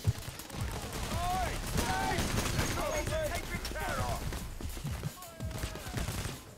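Dense video-game gunfire from Payday: The Heist fills the scene, rapid automatic shots and bursts continuing throughout, with a voice talking over the shooting.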